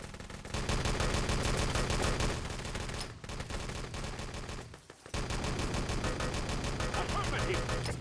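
Rapid gunfire in the shooter game Enemy Territory during a competitive LAN tournament match, dense bursts of automatic fire rattling almost nonstop with a brief lull midway, with speech likely mixed in.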